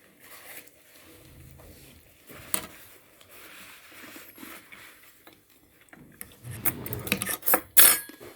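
A spoon and fork clink against a plate while someone eats Kayseri tray mantı, scattered light taps and scrapes at close range that grow busier and louder near the end.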